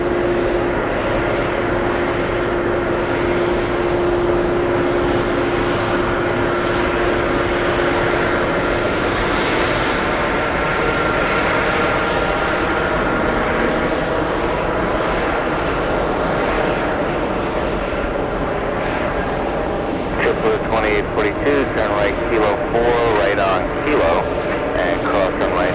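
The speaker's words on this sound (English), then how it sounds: "We have ITA A380 Neo flying to Rome." An ITA Airways Airbus jet airliner at JFK airport roars loud and sustained as it powers up and moves, its broad engine rumble and whine filling the air while radio chatter sounds over it.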